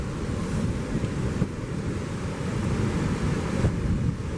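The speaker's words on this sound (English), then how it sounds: "Yo, massive waves coming through here." Massive surf rolls in and crashes on a St Lucia beach, a dense unbroken roar close by with strong wind rumbling across the microphone and brief louder surges; no voices are heard.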